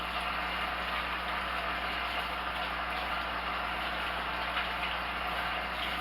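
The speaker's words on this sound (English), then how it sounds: "let me rinse my hands off." A kitchen tap runs steadily while hands are rinsed during bread-roll baking, a constant, even hiss of flowing water at moderate distance, alone with no talk.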